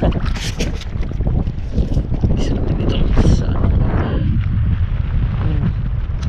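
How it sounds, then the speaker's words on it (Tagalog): Strong wind, suddenly picking up while jig fishing, buffets the microphone in heavy, continuous gusts, with water sloshing and a voice or two faintly under the roar. "Malakas ang hangin, biglang lumakas."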